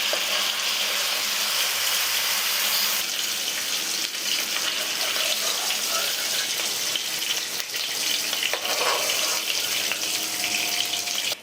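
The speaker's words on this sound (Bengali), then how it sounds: "খুব বেশি আমি ভাজছি না, হালকা করে একটু ভেজে নিলাম" Food fried lightly in a pan for a Nabanna festival annakut dish, a steady broad hiss of frying throughout, close and loud, with no talk.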